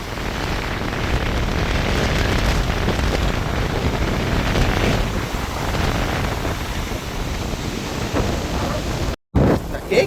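A storm along the rough, deep sea off Jaffna's Vadamarachchi coast brings strong gusting wind buffeting the microphone over a constant roar of crashing surf, loud and unbroken apart from a momentary dropout near the end.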